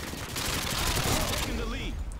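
Continuous dense gunfire in Call of Duty Modern Warfare 2, a loud, unbroken wash of rapid shots that thins out near the end, with a voice faintly mixed in.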